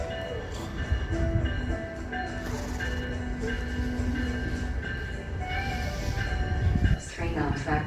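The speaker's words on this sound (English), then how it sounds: "another New Jersey Transit train" A New Jersey Transit train passes through Trenton Transit Center, a steady loud rumble of wheels and rolling cars on rails with a sustained tonal whine, a brief louder surge near the end, and voices talking underneath.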